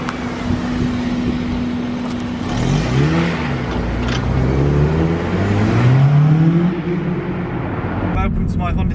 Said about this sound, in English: let's go for a drive in the car and we'll see what it's like on the road.